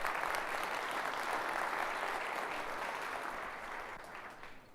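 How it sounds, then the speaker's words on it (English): An audience at a 2018 Global Market Outlook event applauds the host city, a dense steady clapping that holds for several seconds before gradually fading. "How about a round of applause for our host city?"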